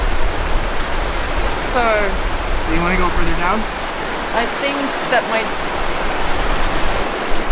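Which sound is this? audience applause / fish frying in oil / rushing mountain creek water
rushing mountain creek water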